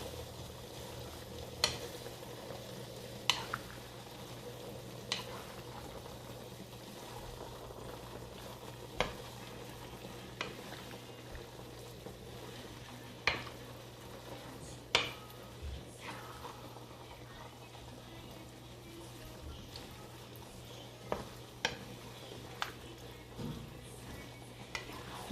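Seafood with squid simmers in coconut milk in a pot while being stirred, a soft bubbling hiss underneath sporadic clinks and scrapes of a utensil against the pot.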